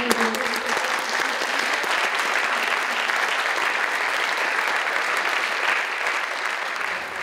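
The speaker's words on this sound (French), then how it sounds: "je pense qu'on peut encore applaudir" A large audience at a youth mental-health debate in the Brussels Parliament keeps applauding loudly and evenly throughout, a thick, unbroken wash of claps with no voices rising above it.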